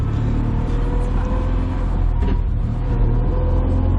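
Classic Fiat 500 with a manual gearbox pulling away, its small engine a steady buzzing rumble heard from inside the car, loud and continuous throughout.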